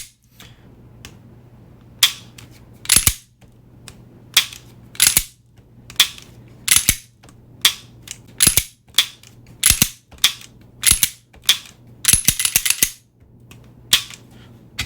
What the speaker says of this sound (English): I'm gonna press down, and then you see that right there, then to pull the trigger.